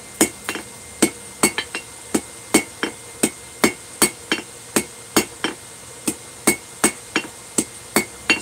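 Hammer striking hot metal worked on the edge of an anvil, sharp ringing clangs repeated in a steady rhythm about two or three per second, loud and close, with no speech.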